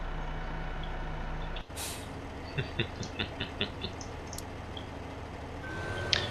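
Truck air brakes releasing with a sharp hiss in Farming Simulator 15, followed by a run of short, evenly spaced beeps over a steady engine drone.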